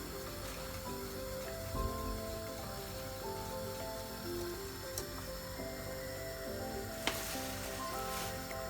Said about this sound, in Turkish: Yavaş yavaş kaynıyor.